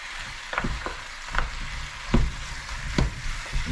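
Onions frying with curry seasoning in a pan for pork curry, a steady close sizzle with occasional louder crackles and bursts of stirring, no voices.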